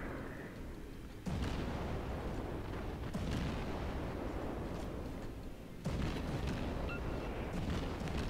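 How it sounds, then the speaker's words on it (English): Heavy naval guns on the USS Erie cruiser in World of Warships boom repeatedly, loud thunderous salvos with rumbling tails following one another in a dense, continuous barrage. "allow my guns shoot as fast as they can"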